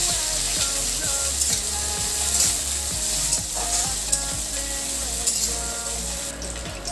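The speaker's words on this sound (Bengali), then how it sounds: "পেঁয়াজটা ভালো করে ভেজে নেব একটু।" Chopped onions fry in hot oil along with whole spices and bay leaf, giving a steady crackling sizzle. Rhythmic scraping and clicking strokes of a spatula against the pan run throughout, and no one speaks.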